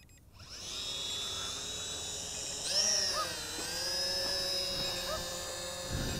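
An SJRC S20W GPS camera drone taking off and climbing, its propellers spinning up into a steady high-pitched whine that shifts in pitch as it rises, fairly close and continuous.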